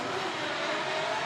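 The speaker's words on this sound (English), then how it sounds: "Listen to the scream from this engine." A Nissan S13 drift car's engine screams at sustained high revs through a big-angle transition during a top-32 drift battle, a loud, steady whine with wide broadband roar and no talk over it.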